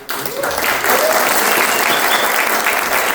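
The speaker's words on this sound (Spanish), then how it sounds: "Démosle un aplauso" An audience at a panel talk in a temple breaks into steady, sustained applause, a dense wash of clapping that holds at full strength throughout.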